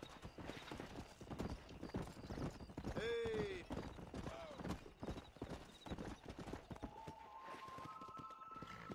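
Horse hooves clip-clop in the video game Red Dead Redemption while riding, with a whinny partway through, game music and effects layered underneath, and someone talking over it.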